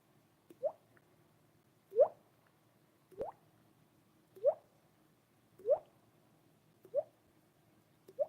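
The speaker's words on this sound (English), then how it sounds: "Oh, I love that fire drip." Burning material dripping from a fire, giving a slow, steady series of soft drip-and-plop hits, each falling a little over a second apart, quiet and clear against a faint low background hum.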